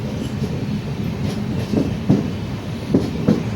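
Train carriages rolling past at a station on the Konkan line, a steady loud rumble with occasional clacking thumps of wheels over rail joints, no voices.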